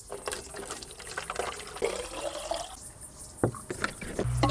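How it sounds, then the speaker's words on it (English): Water containers being refilled inside a camper van, with a continuous trickling fill stream broken by a few sharp plastic knocks and clunks near the end. "first I have to refill all my water containers for the day"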